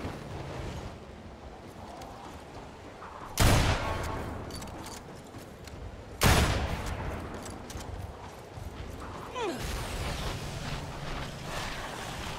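Tranquilizer gun fired in the Evolve video game on Xbox One, with two sharp, loud blasts a few seconds apart over a low ambient rumble.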